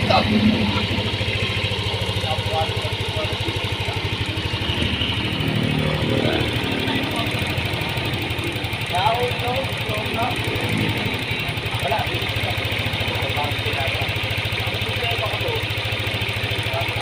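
A Yamaha Aerox or NMAX scooter engine runs hot at a steady idle with a light marble-like rattle, close and continuous, while someone talks over it.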